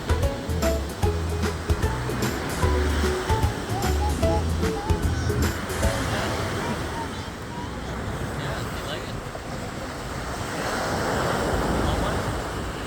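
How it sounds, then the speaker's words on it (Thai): Continuous roar of surf washing onto Jomtien Beach in the evening with gusty wind noise, loud and close, with faint voices at the start. "น้ำทะเลก็ กำลังซัดแรงอยู่เหมือนเดิมเลย"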